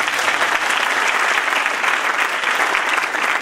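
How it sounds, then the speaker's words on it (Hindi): A seated audience of students at a talk claps together in a dense, steady burst of applause. The clapping is loud and continuous, with no voices over it. "बजाओ ताली एक बार और।"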